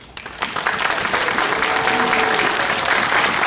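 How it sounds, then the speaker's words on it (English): An audience at a horror host hall of fame event breaks into a standing ovation, dense sustained clapping that swells quickly and holds steady and loud throughout, with faint crowd voices mixed in. "if everybody would just give Fenris a standing round of applause"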